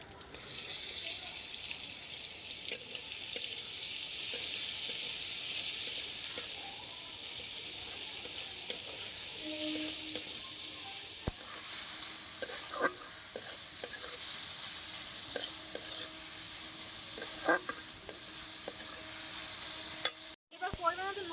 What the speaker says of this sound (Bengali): এবার দেখো আগের থেকে পেঁয়াজ কুচিয়ে রাখা পেঁয়াজ আমি কড়াইতে দিয়ে দিচ্ছি।